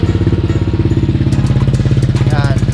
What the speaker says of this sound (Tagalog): papaanda rin natin yung engine kahit mga 2 minutes lang